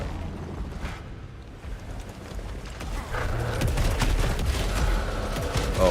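Pistol alternate fire in the Saros video game, heard as a dense, continuous burst of rapid shots that grows louder after the first few seconds and keeps up steadily to the end, with no talking.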